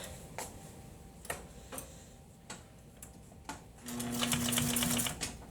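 A sewing machine stitches a box cushion, with a few sparse ticking clicks followed by a short, louder burst of rapid whirring stitching near the end, close and fairly quiet.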